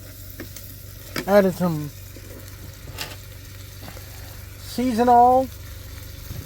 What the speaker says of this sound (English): Got our peppers going here in this, what is essentially become garlic butter.